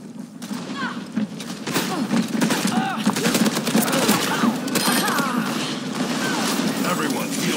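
Rapid automatic fire from a turret in Overwatch 2, a dense sustained clatter of shots over busy game noise and voices throughout.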